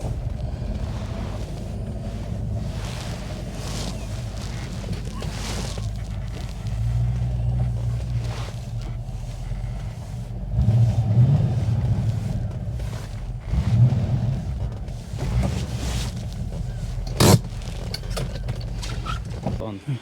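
Steady low engine rumble of a Rover P6 3500S running for a while, with swells as it revs and a brief sharp metallic click near the end.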